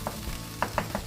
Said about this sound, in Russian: И теперь дожарим лук.